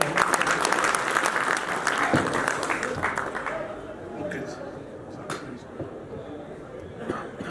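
Loud, dense applause from a crowd welcoming a scientist at an agricultural potato event, steady for several seconds and then thinning to scattered claps with some voices in the background.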